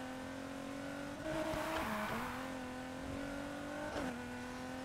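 A car engine in the racing game Need for Speed Heat holds a steady, loud drone, rising and falling through a few revs and gear shifts with no talk over it.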